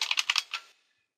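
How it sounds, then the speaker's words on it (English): Quick typing on a computer keyboard while entering a web address into a Firefox browser on an Ubuntu Server desktop, about six close, crisp keystrokes in a rapid burst that ends in silence. "In this case, I will simply type in"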